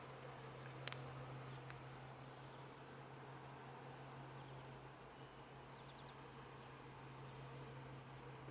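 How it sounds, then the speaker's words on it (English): Bees at a hive out collecting pollen on a mostly cloudy day make a steady, dense buzz that stays even and continuous throughout, with no voices over it. "Lots of bee action today."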